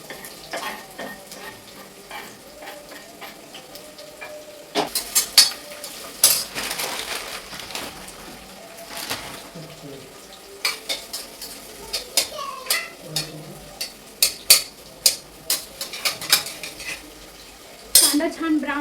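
Sliced onion and two or three bay leaves frying in hot oil in a home kitchen pan, a soft steady sizzle under repeated metallic clinks and scrapes of a spoon stirring against the pot.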